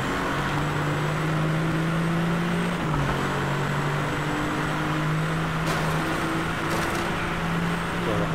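A Ferrari engine drones in the racing video game Driveclub, holding a steady, fairly loud tone whose pitch dips and shifts slightly as the car drives on, with no talk over it.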